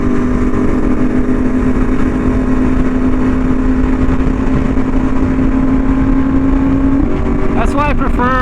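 A Yamaha R1M motorcycle with an SC Project exhaust is ridden at night, its engine a loud, steady close drone that holds one pitch, then steps up near the end with quick rising revs.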